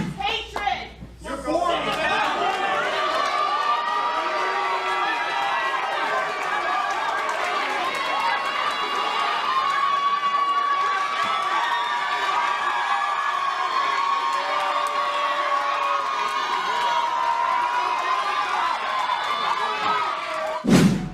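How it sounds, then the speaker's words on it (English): A college crowd cheering and booing, a dense sustained roar of shouting voices and whoops that stays loud and continuous throughout. "What the SJWs did got some of the crowd cheering them on and others were booing them"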